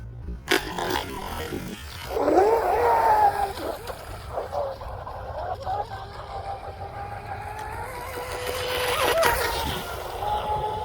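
An RC outrigger boat runs across the water and holds a smooth turn, its small motor giving a steady, fairly loud whine with splashy wash that rises and falls across the run, including a brief burst near the start.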